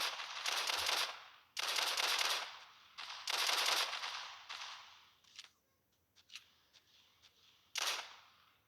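Rapid automatic gunfire in a Special Forces Group 2 shooter game, loud bursts of a second or so repeating with short gaps, then scattered single shots and a final burst, no talking.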